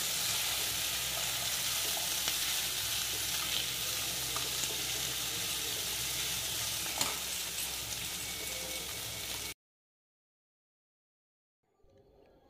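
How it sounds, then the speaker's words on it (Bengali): Roasted flour is stirred in a hot wok, giving a steady close sizzle with scraping that runs for several seconds before it cuts to near silence. "এরপর আমি এগুলো ভালো করে নেড়ে নিচ্ছি কড়াইতে।"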